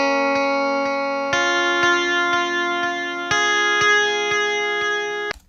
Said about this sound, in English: this is the same thing with just a really exaggerated delay with lots of very heavy mix on the repeats